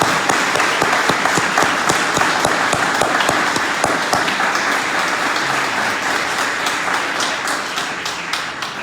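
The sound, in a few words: audience applause for the inductees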